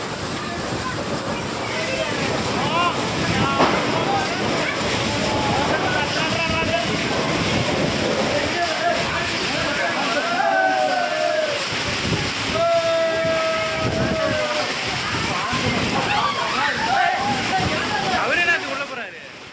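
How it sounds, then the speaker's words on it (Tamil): Heavy rain pours down with strong gusty wind in Krishnagiri district, a dense, continuous roaring hiss that stays loud and steady, with faint whistling gust tones rising through the downpour. "பலத்த சூறை காற்றுடன் கனமழை பெய்தது"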